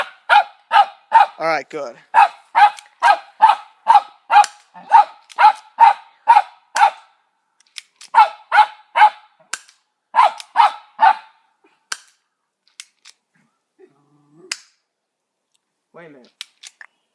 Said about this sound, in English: I'm sorry you're hearing dogs barking.